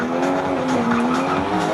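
A 1JZ-powered Nissan S13 drift car screeches its tires loudly and continuously over a strained, high-revving engine, heard close and with no voices.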